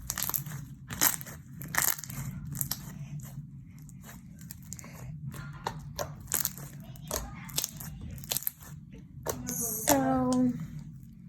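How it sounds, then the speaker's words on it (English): Thick, crunchy clear slime is squeezed and stretched close up, giving repeated sharp crackling pops and crunches in uneven bursts over a quiet background. "this slime is just amazing. As you guys can hear, it is super crunchy"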